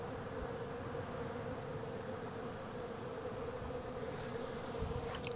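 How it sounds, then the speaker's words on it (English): A steady, dense buzzing of many bees swarming close by around a grape arbor, continuous and even throughout with no talking. "you can see the bees are going crazy in here as well"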